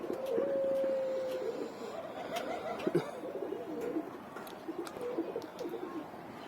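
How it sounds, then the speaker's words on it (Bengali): A pigeon gives a soft, drawn-out coo up close, followed by light fluttering and scattered clicks as more calls trail off. "আর একটা অতিথি কবুতর আসছে"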